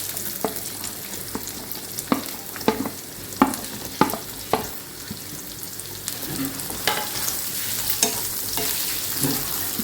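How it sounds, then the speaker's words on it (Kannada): Ginger and garlic frying in a pan over a medium gas flame for soyabean chilli, a constant sizzle broken by repeated sharp scrapes and taps of a spoon, with no speech. "ಈಗ ನಾವು ಇದಕ್ಕೆ ಜಿಂಜರ್ ಗಾರ್ಲಿಕ್ ಹಾಕ್ತೇವೆ. ಸ್ವಲ್ಪ ಫ್ರೈ ಮಾಡಬೇಕು."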